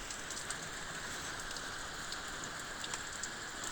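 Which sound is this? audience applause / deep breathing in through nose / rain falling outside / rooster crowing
rain falling outside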